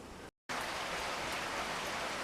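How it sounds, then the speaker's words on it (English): Heavy rain pours down outside, giving a loud, dense, steady hiss that cuts out briefly near the start and then continues unbroken. "Can you even hear that? The rain is so loud."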